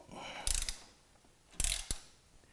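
A ratchet wrench loosening master cylinder bolts on a BMW S1000RR motorcycle, two quick close bursts of rapid clicking separated by a short pause.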